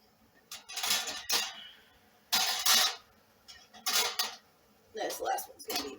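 Boiling-hot glass canning jars clink and scrape in several short bursts as they are handled in a home kitchen while peach butter is canned, close and moderately loud with quiet pauses between.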